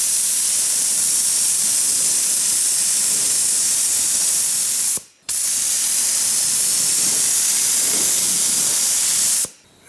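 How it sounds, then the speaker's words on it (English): Two long, loud bursts of spray paint hissing steadily from an aerosol can onto a Nissan 200SX, each lasting several seconds and separated by a brief pause. "Right, let's spray some paint."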